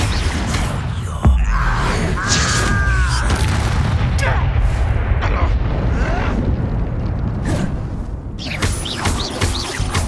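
Blasting spell explosions and other combat spells in a Hogwarts Legacy battle: a sharp boom near the start, then continuous rumbling, crackling impacts and magical effects, with a voice shouting over the fray.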